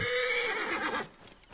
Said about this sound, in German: wenn das Pferd da mal eben ein bisschen rumwiehert